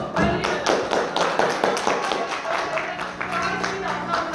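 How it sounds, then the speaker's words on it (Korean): An audience at a seminar claps in a burst of uneven, close hand claps and taps, with some voices mixed in under the applause. "마지막으로 큰 박수 보내드리면"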